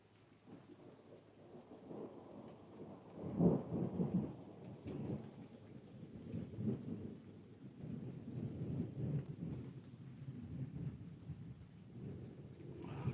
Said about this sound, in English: kind of seems like the storm went around us again.